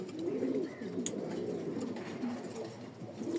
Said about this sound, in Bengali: এখানে যেগুলা কবুতর দেখছেন কিছু স্টক বাটে ছিল, কিছু বাচ্চা আছে এখানে নতুন।